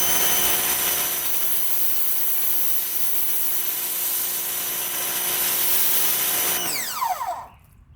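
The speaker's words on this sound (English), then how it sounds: "we'll go to the red 0 degree, so this will be the highest pressure" A PowerPlay Spyder 2030 psi pressure washer sprays through its red 0-degree nozzle, a loud steady hiss with a constant motor whine that winds down with a falling pitch near the end.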